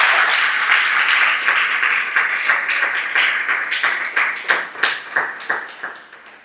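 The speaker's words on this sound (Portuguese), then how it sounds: "Aplaude ao Senhor bem forte." Church congregation applauding, a dense, loud wash of clapping that thins near the end into scattered separate claps.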